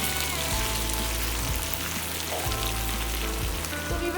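Potato slices (aloo) fry slowly on a low flame for aloo ki katliyan, a continuous, even sizzle with soft, low thumps recurring about once a second.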